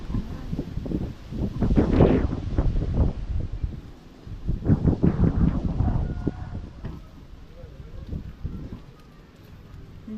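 Strong wind gusts buffet the microphone on a hillside temple stairway, rising and falling in loud rushing bursts with quieter lulls between.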